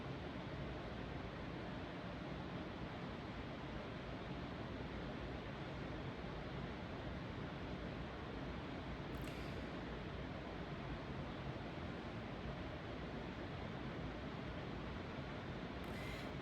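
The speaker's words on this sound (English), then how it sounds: "maybe some white noise, or I think this is called brown noise" Steady broadband noise of the white or brown noise kind used as a meditation backdrop, even and continuous at a soft level with no voices.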